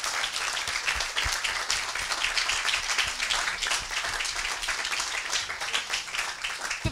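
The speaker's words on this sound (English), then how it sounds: "I think we should very much applaud" Audience applause for two filmmakers standing up at a human rights event on European complicity in torture, steady dense clapping from a seated crowd held for the full length at moderate level.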